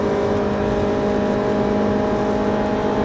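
A Ferrari 458 Italia's engine pulls hard on a race circuit, a loud, steady high-pitched drone that holds and builds under acceleration, heard from inside without talk.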